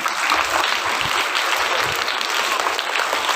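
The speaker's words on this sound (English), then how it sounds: "So you were kind enough to clap." An audience at a school assembly for Class IV B gives a steady, full round of applause for the parents who prepared the children, sustained at an even level throughout.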